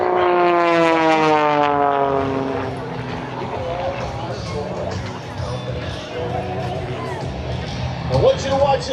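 Propeller engine of an aerobatic airplane at an airshow, slowing during a torque roll with a falling, shifting drone, loud and close, while an announcer talks over it.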